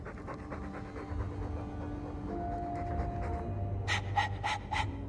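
A dog from the game Dragon Age II pants and breathes heavily up close in a steady rhythm, with a few sharper, louder huffs bursting out near the end; nobody speaks.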